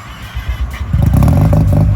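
A Mazda RX-7 FD rotary engine, street-ported, cranks and then catches, bursting into a rough, lumpy idle with a buzzing, pulsing rasp heard close up.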